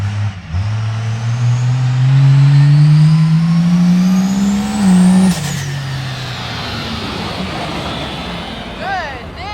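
Cummins diesel engine in a monster truck revs hard while driving, a loud rising roar that climbs for several seconds, peaks, then drops back to a rougher, lower rumble.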